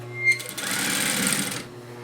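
A sewing machine stitches a reusable grocery tote bag in one steady, close burst of rapid mechanical whirring lasting just over a second, then stops.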